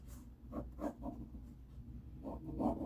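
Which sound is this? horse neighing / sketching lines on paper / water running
sketching lines on paper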